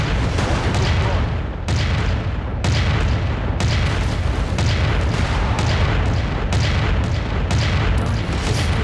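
Mech weapons in MechWarrior 5: Mercenaries fire heavy, booming volleys in a rough repeating rhythm, loud and continuous, with dense rumble filling the gaps between shots.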